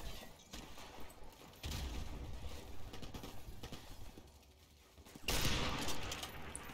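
Gunfire from a sniper rifle in the video game Call of Duty MW1 Remastered sounds as a few sharp, booming shots, with a loud burst near the end over a low game background, and no talk.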